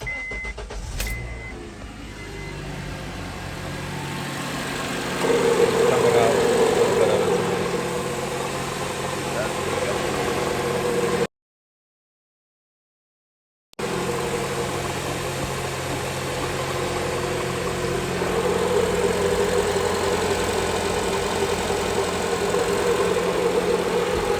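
A 2008 Honda CR-V engine, due for power steering pump, O-ring and oil replacement, runs at a steady idle close by for most of the clip, with a short silent gap in the middle and some faint talk over it.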